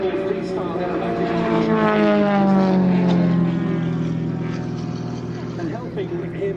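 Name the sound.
large-scale radio-controlled model aircraft flying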